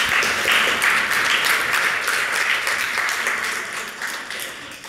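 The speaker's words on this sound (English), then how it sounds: "I want you all to give the adults, the parents, the volunteers who are all helping you out a round of applause" An audience gives a sustained round of applause, dense and steady clapping that stays loud throughout and eases off slightly toward the end.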